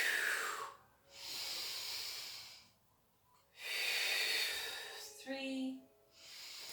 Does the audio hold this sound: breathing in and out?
yes